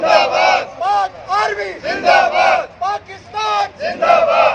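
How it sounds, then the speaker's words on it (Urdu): A rally crowd outside the UN office in Vienna chants patriotic slogans in unison, loud and close, with rhythmic bursts of many voices shouting together in repeated phrases. "UNO آفس ویانا پاکستان زندہ باد پاک فوج زندہ باد کے نعروں سے بھی گونج اٹھا۔"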